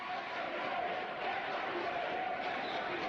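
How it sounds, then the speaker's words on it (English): A wrestling crowd at an FWA show in Philadelphia chants in unison, a dense, steady roar of many voices filling the hall, fairly loud and continuous without a break. "Listen to the crowd erupt in chants of FWA"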